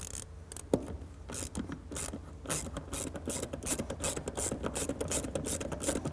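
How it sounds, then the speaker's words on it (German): Ratcheting, rasping turns come in short bursts as a wrench undoes the two 13 mm bolts holding the electronic accelerator pedal in a Mercedes E-Class Cabriolet footwell, close by with no talking. "jetzt machen wir das Gaspedal weg, das ist mit zwei 13er Schrauben festgemacht."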